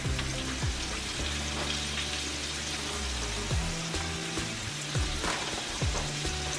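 Oxtails fry in a pan with a steady, dense sizzle and crackle, loud and close throughout, with faint low knocks underneath and no talking.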